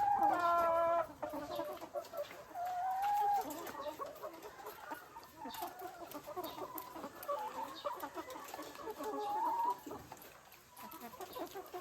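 Layer hens clucking and squawking inside a poultry house, a dense, continuous chorus of many birds at close range with a few louder calls standing out.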